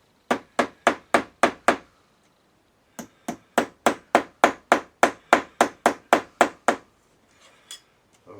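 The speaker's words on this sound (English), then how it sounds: "I need to get the little hammer on that" A small hammer taps on metal trim on an old Sanyo radio, two runs of quick, even, sharp knocks, six in the first and about fourteen in the second, close and clear with a short pause between.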